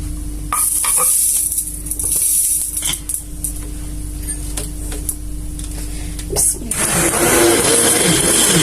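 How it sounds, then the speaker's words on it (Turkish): A loud, steady whirring blender purees lentil soup with a dense broadband roar, shifting in pitch partway through as the contents churn and thicken. "çorbamı da blenderdan geçireceğim"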